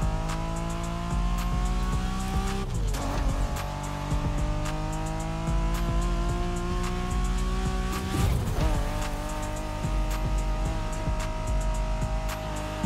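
A Honda NSX races in the video game The Crew Motorfest, its engine droning steadily and loudly with two brief squeals or shifts as the tires bite, continuous throughout with no talk.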